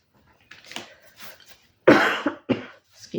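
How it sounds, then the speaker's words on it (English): A woman coughs indoors at a desk, a few soft throat sounds building to two loud, harsh coughs close to the microphone, followed by a quieter rasp. "Sorry about my cough."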